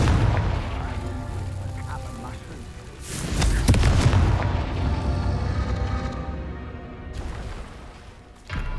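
A Confringo spell goes off in Hogwarts Legacy: a heavy booming blast that swells and rolls on for a few seconds, followed later by a sharper burst, with game music and effects underneath and no talk.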